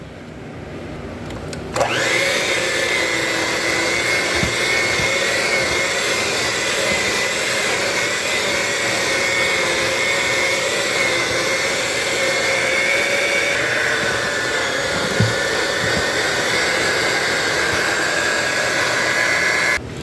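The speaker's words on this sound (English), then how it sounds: "go back to your dough hook attachment and mix it for at least 5 to 8 minutes on medium heat until the dough is fully combined" A stand mixer fitted with a dough hook kneads brioche dough, a loud, steady motor whir that starts abruptly and runs on evenly, with a faint knock or two.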